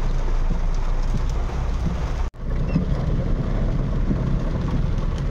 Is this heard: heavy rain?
yes